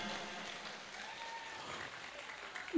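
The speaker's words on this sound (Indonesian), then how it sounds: "Tepuk tangan lagi." Seminar audience applauding, a modest, fairly quiet patter of clapping that holds steady for a few seconds before a brief louder knock at the end.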